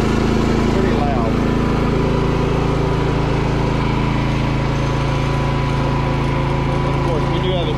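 A Predator 5000 or Cummins 4500 portable generator under full load, heard from the exhaust side: a loud, steady engine drone with a rough, buzzing exhaust roar running continuously without letting up.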